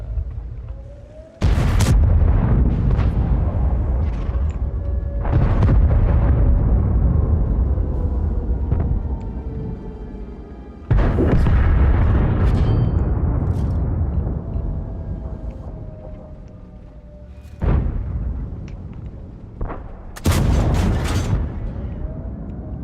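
Shells striking a tank's cupola in an online tank battle game, heard as four or five loud heavy booming impacts spaced several seconds apart, each trailing into a rumbling decay over a droning engine hum.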